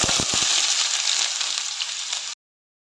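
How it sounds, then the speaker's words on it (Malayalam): Sliced onions frying in a pan for a chicken biriyani masala, a loud continuous bright sizzle with a few soft stirring knocks at the start, cutting off abruptly near the end. "ഉള്ളി ഒന്ന് ഫ്രൈ ചെയ്തെടുക്കാം."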